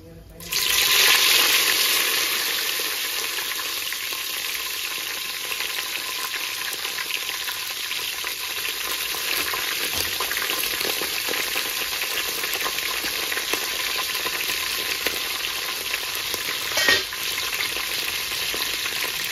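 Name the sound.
frying mint leaves in a pan for egg dum biryani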